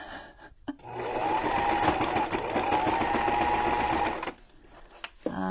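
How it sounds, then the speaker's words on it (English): A sewing machine stitches ribbon onto a junk journal cover in one steady, loud, continuous run of fast whirring stitches lasting several seconds, with short pauses at the start and end. "Keep your needle down, turn it."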